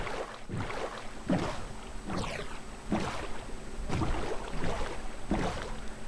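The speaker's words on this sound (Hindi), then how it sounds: "फाइनली हम सेल कर रहे हैं।" A boat sails across open water in the Minecraft video game, with a soft, steady wash and a paddle-like splash that repeats roughly every second and a half, and there is no talking.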